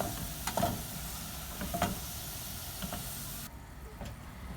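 Onions fry in oil with a steady hiss and sizzle, and occasional stirring clicks on the pan. The sound is moderately loud and softens slightly near the end.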